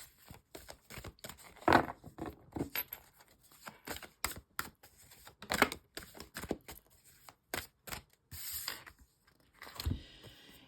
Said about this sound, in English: as I'm shuffling, and let's see if we can get an answer and some guidance, please, using these beautiful energy oracle cards